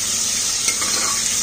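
Kadhi with vegetables being stirred in a pot, giving a steady close scraping and swishing over a constant bubbling sizzle, with no voices.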